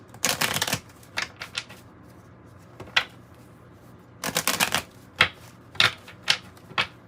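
A Kipper oracle card deck being shuffled in close, quick bursts of riffling and snapping cards, with short pauses between clusters.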